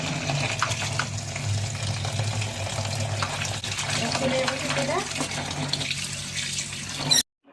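Water runs and splashes steadily as tender mustard flowers are rinsed in a basin, a continuous close wash of liquid that ends abruptly.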